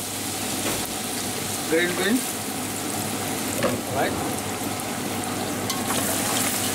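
Green beans frying and sizzling in a pan in an Indian restaurant kitchen while being stirred for a dry vegetable curry; a steady close sizzle with scraping stir strokes, and a voice speaks briefly over it.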